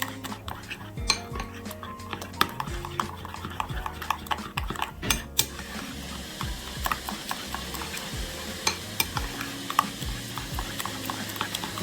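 Jerk sauce with cheese heating in a pot on the stove, dominated by repeated clinks and scrapes of a utensil against the pan, irregular and close, with a faint bubbling beneath.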